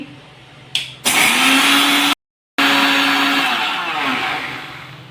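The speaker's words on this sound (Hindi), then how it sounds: "मैंने ग्राइंडर को लगा दिया। अब मैं धनिया को डाल दे रही हूँ इसमें, ग्राइंड करूँगी।" Electric mixer-grinder grinding roasted coriander seeds for a Janmashtami panjiri: a loud, steady whirring roar that starts abruptly, cuts out briefly midway, then resumes and runs on with no talking.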